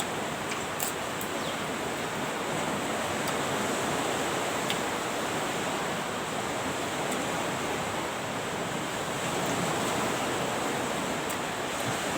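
A steady, broad wash of surf fills the whole stretch, a constant rushing roar with no clear breaks, sounding close and moderately loud.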